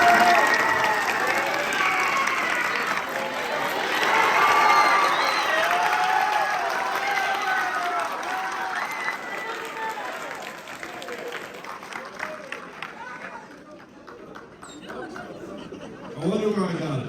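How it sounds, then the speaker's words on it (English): A high school audience applauds a speaker's father, loud sustained clapping mixed with chatter and some laughter that gradually thins and fades toward the end. "Give him a round of applause"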